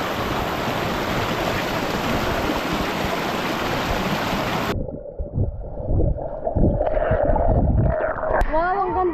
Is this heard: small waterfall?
yes